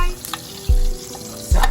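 Crushed garlic frying in butter and extra virgin olive oil for a surf and turf dish, a steady close sizzle with two sharp bursts of louder spitting as pieces hit the hot fat.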